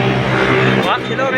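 A Sian Liner Deluxe bus bound for Tagum and Compostela passes close by at a Davao city terminal, its loud engine roar and tire noise filling the moment while someone talks over it.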